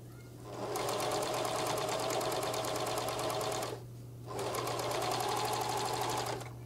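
A sewing machine runs steadily, stitching bias binding on a wrap skirt. There are two close, even bursts of rapid stitching with a brief pause between them and a constant low motor hum underneath.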